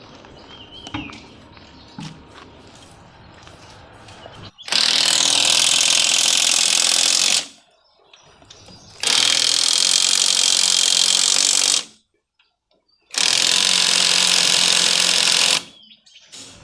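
Osuka OSID520 128V cordless impact driver hammering on a wheel's fasteners, three loud sustained bursts of a few seconds each separated by brief pauses, with quieter handling noises first.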